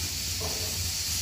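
A continuous loud hiss of escaping steam from a faulty pressure cooker cooking rice, steady and close, with a faint low rumble underneath.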